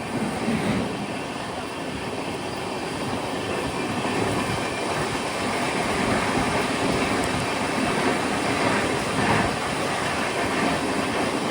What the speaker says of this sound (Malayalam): ട്രെയിൻ ഇപ്പോൾ തിരുവനന്തപുരം സൗത്ത് സ്റ്റേഷൻ സ്കിപ്പ് ചെയ്യുകയാണ്.